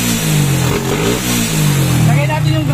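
A Honda Wave 100 motorcycle engine idles roughly and misfires while running without a battery, with a steady low engine drone under a voice nearby.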